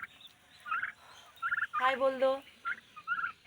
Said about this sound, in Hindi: यहाँ पे है सब टर्कियाँ।